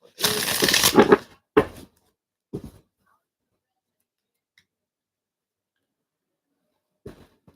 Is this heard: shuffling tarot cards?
yes